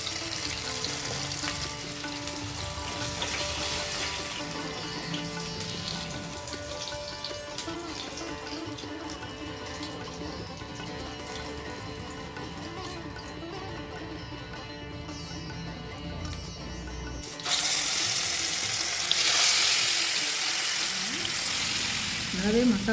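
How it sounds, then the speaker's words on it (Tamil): Masala-coated fish pieces fry in hot oil, browned on both sides, with a steady close crackling sizzle throughout. Near the end it jumps louder into a brighter, harsher hiss. "பாருங்கள் மீன் நல்லா 2 பக்கமும் நல்லா ஃப்ரை ஆயிடுச்சு"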